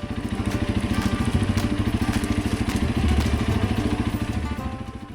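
A motorcycle engine thrums steadily with a fast pulsing beat while riding through bush terrain, loud and close with wind and rumble throughout.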